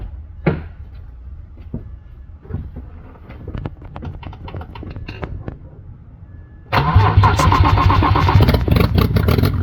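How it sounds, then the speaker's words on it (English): A BMW 3 Series engine with a newly installed turbo kit cranks and catches after several seconds of light clicks and clanks, then runs loud and steady through the final stretch. "And gonna crank it again, see if it starts to leak or not"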